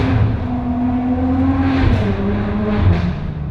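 Ferrari 599 GTO V12 blipping on a downshift, a loud close rising and falling engine rev with sharp harmonic tones and a quick throttle stab near the end.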